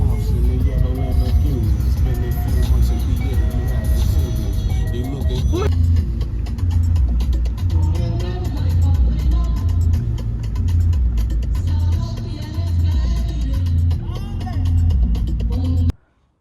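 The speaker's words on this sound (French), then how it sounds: "J'ai filmé que les moments en voiture." Steady low rumble of a car driving, heard from inside the cabin, with a continuous engine and road drone throughout and a brief louder shift partway through.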